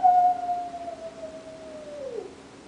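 A single drawn-out coyote howl, voiced as part of a told story, glides slowly downward in pitch and fades over a few seconds, moderately close with no talk over it; most likely a human imitation.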